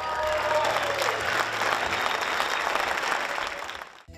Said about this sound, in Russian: Каждый номер встречали бурными овациями.